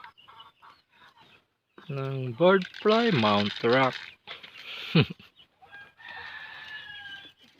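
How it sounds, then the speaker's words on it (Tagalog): Heritage chickens cluck and a rooster crows loudly nearby during feeding, with scattered softer clucks and a voice speaking briefly. "Mga heritage chicken"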